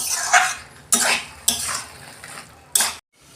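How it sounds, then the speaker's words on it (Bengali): Hilsa fish head and taro greens are stirred in a pan over a low flame, a spatula scraping and knocking against the metal in four or five distinct strokes, with a soft sizzle between them. "আমি এইটা গ্যাসের ফ্লেমটা আস্তে করে দিয়ে আমি একটু নেড়ে চেড়ে শুকনো করে নেবো"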